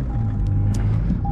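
A 2019 Ford GT with a 7-speed double-clutch transmission fires up at the press of its start-stop button, a steady close low rumble with a faint high beep at the start and again at the end.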